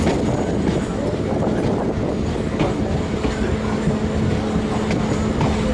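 Train rolling at Durgapura railway station in India at dawn, a continuous rumble with rhythmic clickety-clack of wheels over rail joints and faint squeals, close and steady throughout.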